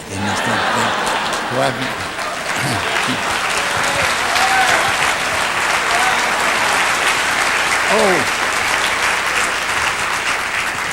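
A large audience at a motivational talk breaks into sustained, dense applause that fills the whole stretch, with chuckles and scattered laughter rising through it and a few voices murmuring underneath.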